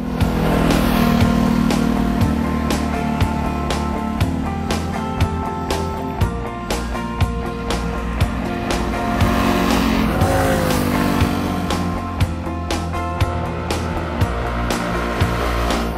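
A small scooter weighing 132 kg fully fuelled, heard while riding: a steady, loud, close engine drone mixed with wind rush that holds for the whole stretch with slight rises in pitch.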